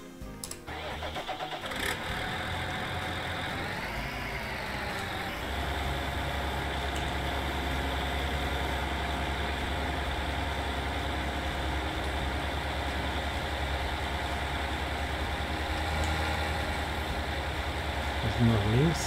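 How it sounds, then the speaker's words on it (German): A blue New Holland T8 tractor in Farming Simulator 19 starts up and settles into a steady low idle that drones evenly for most of the clip, with a rise in revs near the end. "Und nehmen wir den blauen Traktor hier, den Holland. T8"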